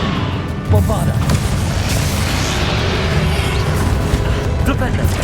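Bombarda spell blast in the video game Hogwarts Legacy, a heavy boom in a dense, continuous wash of battle noise, with a voice talking over the action.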